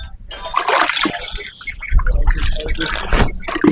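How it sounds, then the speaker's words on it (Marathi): Water from a bucket splashes and splatters loudly in repeated bursts close by, with people talking over it. "मारा पाणी मारा"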